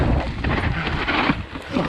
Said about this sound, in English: Oh, that wind sucks.